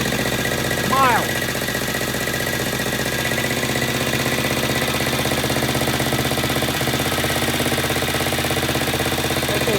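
A vintage British motorcycle engine runs steadily while warming up, a continuous mid-pitched mechanical chug with a rapid, even beat, close and fairly loud throughout.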